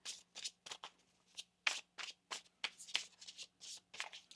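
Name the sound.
shuffling tarot cards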